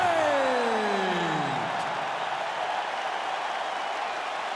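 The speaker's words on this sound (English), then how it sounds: "Always a rowdy crowd here inside United Center in Chicago, Illinois, and tonight is no different." An arena crowd at a UFC event inside the United Center in Chicago, Illinois, gives sustained cheering and applause. A descending whistling tone fades out in the opening seconds.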